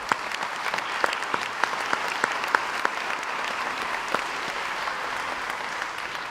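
An audience at a school breakfast applauds an employee of the year, dense and steady clapping throughout with a few sharp individual claps standing out, fairly loud with no voices on top.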